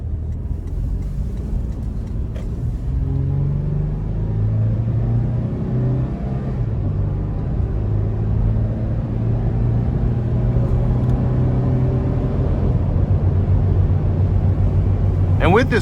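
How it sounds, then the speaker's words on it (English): Engine of a 2021 Toyota 4Runner Limited building revs under throttle, a steady low rumble heard from inside the cabin that climbs gradually in pitch across the drive. "So we're gonna give it some throttle here."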